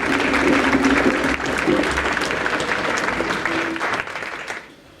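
Crowd applause at a drum salute tribute event at a drumming venue, a sustained, loud wash of many hands clapping with scattered cheers, gradually tapering off at the end.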